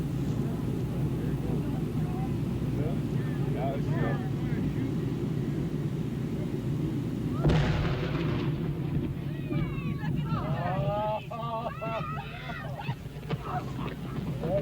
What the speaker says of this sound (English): where the blast blasted blubber beyond all believable bounds